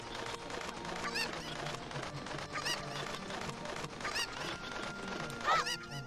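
Chickens in a Legend of Zelda fan game let out repeated short, squawking calls over a busy, steady game background.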